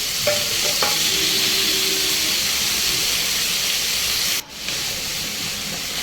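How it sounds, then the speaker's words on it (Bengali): Chopped green tomatoes frying in a pan give a loud, steady, close hiss and sizzle, with a few light stirring clicks early on and a brief dip in the sizzle near the end. "দিয়ে টমেটোটাও আমি ভালো করে ভেজে নেব, ভালো করে এটাকে ভেজে নেব আমি।"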